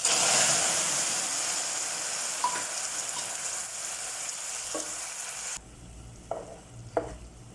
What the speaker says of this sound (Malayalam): നമുക്കിതിൽ അര കപ്പ് തിളച്ച വെള്ളം ഒഴിച്ചു കൊടുക്കണം